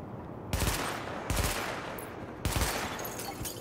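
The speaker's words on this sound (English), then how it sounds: "Open fire at the highlighted targets" Gunfire at highlighted targets on a weapon-test range in the video game The Division: three loud bursts of automatic fire, each with a sharp crack and a ringing tail, spaced about a second apart.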